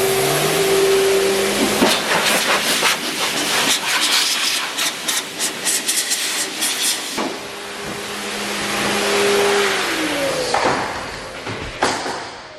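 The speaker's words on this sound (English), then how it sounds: "I'm gonna take my Obsessed air dryer over here. It's got 2 motors on it." A twin-motor Obsessed air dryer blower, 4 horsepower per motor, switched on to blow water from behind an F-150 badge during panel prep: a loud, steady broadband roaring hiss lasting throughout, with rising and falling surges as the nozzle moves.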